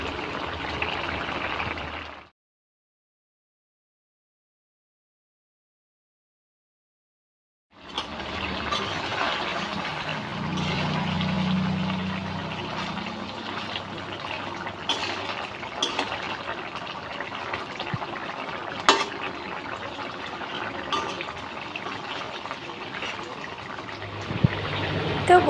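Fish curry gravy with ridge gourd, made with mustard paste and bawus fish, bubbling steadily in an uncovered pan, a continuous watery simmering hiss that stops for several seconds and then resumes at a close, even level.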